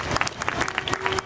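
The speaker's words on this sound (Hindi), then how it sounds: "प्लीज़ उनको एक तालियों से स्वागत कीजिए प्लीज़" Hospital event audience clapping to welcome a doctor, a brief, lively patter of many hands close by.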